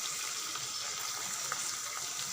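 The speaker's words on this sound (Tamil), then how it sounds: "தண்ணி ஊற்றி ஊற வச்சுருங்க." Water is poured steadily over tamarind to soak it in a home kitchen, a soft continuous splashing trickle with no talk.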